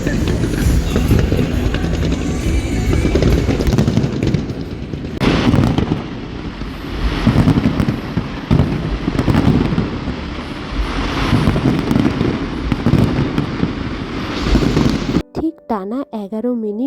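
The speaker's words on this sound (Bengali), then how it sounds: "এই ফায়ার ওয়ার্কসটা হয় বারোটা থেকে বারোটা এগারো অবধি" A New Year fireworks display in London booms and crackles continuously at a distance, a dense rumble of bursts mixed with crowd noise and talk nearby.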